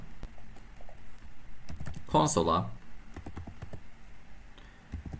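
Typing JavaScript code on a computer keyboard: scattered individual key clicks with a short dense flurry of rapid keystrokes in the middle, fairly close, under a man's speech.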